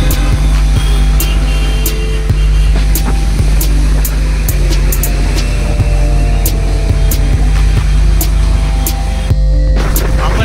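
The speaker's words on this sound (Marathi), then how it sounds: "पूर्ण रोड ट्रॅफिकने भरलेला आहे." A loud, constant rumble of vehicles on a crowded highway in Indrapur, heard from a moving motorbike, with steady engine drone and wind buffeting and a series of short regular clicks running through.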